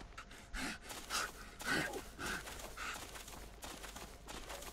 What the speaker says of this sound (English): As you see, the moose is asleep, he's snoring away.